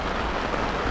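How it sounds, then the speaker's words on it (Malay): Steady heavy rain pouring on a camping tent at a Lojing highland campsite in Cameron Highlands, a dense loud wash of drops with no talking. "Aku tengah duduk dalam hujan semua."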